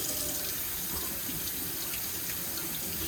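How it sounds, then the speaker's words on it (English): Water runs steadily from a tap into a sink while etching cream is rinsed off glassware, a continuous close hiss and splash with no pauses and no voices. "So I'm just going to turn the water on."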